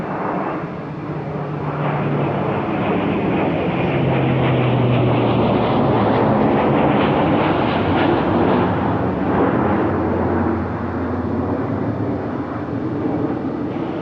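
Antonov AN-12 Cub tactical transport of the Russian Air Force roaring past, a loud, broad turboprop rumble that swells to a peak midway and then slowly fades, with no voices.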